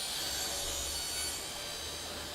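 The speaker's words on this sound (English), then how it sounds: "Mitering the sides of the boxes." A saw miters the sides of blackwood boxes, a steady, close whirring cut that holds briefly and then eases slightly in level.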